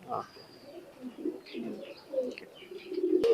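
Pigeons coo steadily up close in a loft, a low throaty warble repeating through the moment, with a voice briefly heard.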